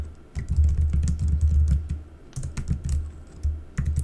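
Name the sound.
typing on a computer keyboard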